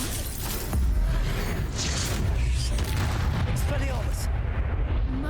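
The Confringo blasting spell bursts in Hogwarts Legacy combat with rumbling booms and crackling impacts in a dense, continuous wall of game noise, while a voice talks over it.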